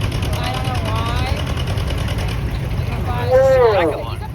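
Antique tractor engines drone steadily through a tractor pull at a county antique equipment show, a John Deere M and an Allis-Chalmers C among them, with a loud low rumble throughout and voices talking over it.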